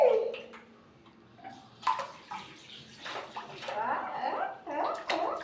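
A young boy splashing and stirring water with his hands in a village, with irregular close splashes and sloshing bursts and some faint voice sounds in between.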